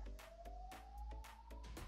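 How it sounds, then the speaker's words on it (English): A police car siren in the Roblox Brookhaven video game wails in a repeating up-and-down pattern over a low rumble, clear and fairly close, with no talk. "police car!"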